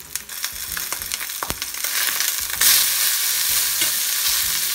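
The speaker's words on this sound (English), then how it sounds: "let the skin cook because skin is really good when it's crispy" Salted salmon skin sizzles and crackles in a pan over medium heat, a steady frying hiss that swells louder midway, with a few sharp clicks and taps of utensils near the start.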